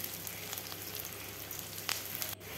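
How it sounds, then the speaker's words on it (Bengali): Onions frying in hot oil in a pan with green chillies, a steady close crackling sizzle that runs on evenly, with occasional small pops and no voices. "পেঁয়াজ দিয়ে লাল লাল করে ভেজে নেব।"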